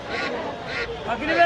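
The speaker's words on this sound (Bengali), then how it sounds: "এই এদিকটাতেও দেখতে পাচ্ছি যে অসংখ্য রাজহাঁস আছে" Several geese honk in short nasal bursts amid a busy outdoor crowd at a rural poultry market in Tongi, Bangladesh, with voices murmuring throughout.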